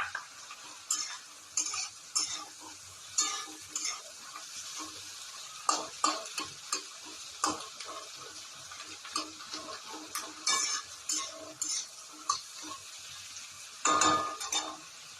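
Chopped ginger and garlic fry in oil for egg chili, a faint steady sizzle broken by regular spatula scrapes and taps against the pan, close by and with no talking.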